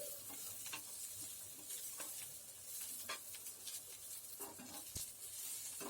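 Onions fry in a pan for a chavli batata bhaji, a faint continuous sizzle with occasional stirring scrapes and light taps, heard alone without talk.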